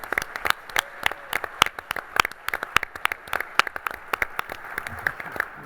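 A conference audience at a government IT midyear meeting applauds, sparse but distinct individual claps ringing out at an uneven rhythm, fairly quiet and somewhat distant, with no talking over them.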